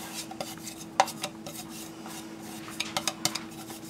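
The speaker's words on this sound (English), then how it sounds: "And we're going to mix this up." Ground meat is worked together with spices for Greek-style gyro burgers, making soft, faint squishing and rubbing with a few light scrapes and taps against the bowl, close and quiet without speech.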